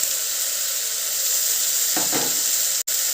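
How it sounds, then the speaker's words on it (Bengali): Kashmiri chili powder, turmeric, salt and pav bhaji masala sizzle steadily in a hot pan, a continuous loud hiss with a brief stirring scrape midway. "সব কিছু মশলা ভালো করে কষিয়ে নেবো"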